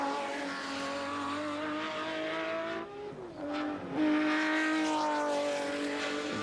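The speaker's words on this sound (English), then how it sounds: "V12 power, and he's giving it its head as he comes across the top of the mountain" A Jaguar V12 touring race car at Bathurst roars past near and loud, its engine note holding high, dipping briefly as it shifts, then climbing again under hard acceleration.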